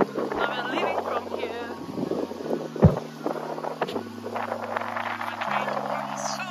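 Steady wind rumble buffets the microphone throughout on a windy day in the Cayman Islands, with people talking over it and one sharp low thump midway.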